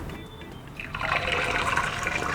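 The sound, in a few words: egg sizzling as it is cracked into hot oil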